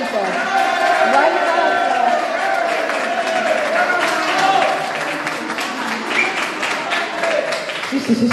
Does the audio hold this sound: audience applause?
yes